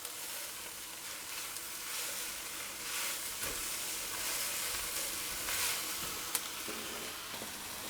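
Garlic, about half an ounce, frying in a pan for beef shin in red wine, giving a steady close sizzle and hiss with faint stirring scrapes and a brief sharp tap near the end, no talk.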